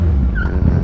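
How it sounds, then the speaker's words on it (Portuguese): A short tire squeal from a car drifting through a street intersection, heard as a brief high screech over loud, steady engine and traffic rumble, fairly close. "Opa, já chamou no drift aqui,"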